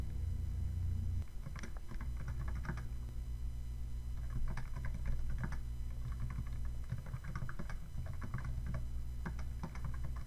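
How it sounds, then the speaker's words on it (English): Keys clatter on a computer keyboard as a text snippet is typed, quick irregular bursts of clicks up close over a steady low hum, with short pauses between runs. "After typing in our text snippet string"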